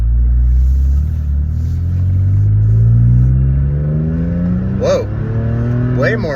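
A Toyota engine running a Yotawerx Blackhawk 2.1 tune pulls out of a driveway, revving up loud and close with a rising rumble and a couple of quick higher-pitched revs near the end, with no talking.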